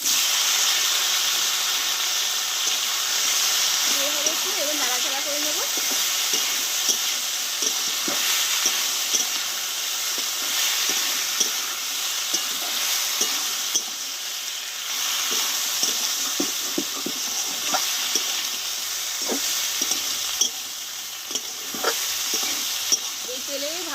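Drumstick stems frying in hot mustard oil with fried mustard and whole cumin, a steady close sizzle with intermittent stirring scrapes throughout, no talking.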